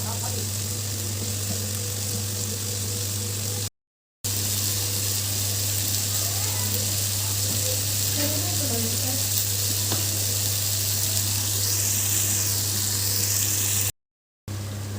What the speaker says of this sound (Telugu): అవి ఫ్రై అవుతాయండి బాగా.